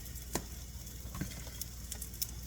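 Tater cakes frying in a pan give off a faint, soft sizzle, with a few light crackles and pops scattered across the quiet background.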